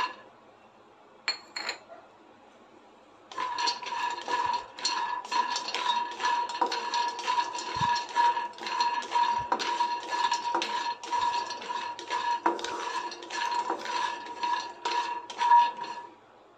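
Almonds dry-roasting in a pan rattle under a spoon in a fast, continuous run of scraping and clinking. It starts after a brief quiet opening and stays close and fairly loud.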